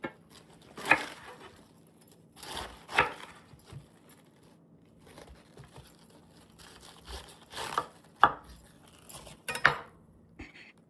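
A knife chopping cabbage on a kitchen board, heard as a series of sharp, close knocks in uneven bursts with quiet pauses between them, and no voices.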